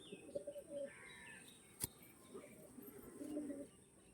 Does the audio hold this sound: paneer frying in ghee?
no